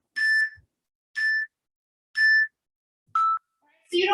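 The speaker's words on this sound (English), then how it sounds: "This is a non-stop 40-second timer." A 40-second workout interval timer in a bodyweight bootcamp session sounds three evenly spaced high electronic beeps about a second apart, then a lower final beep and a brief, rougher tone.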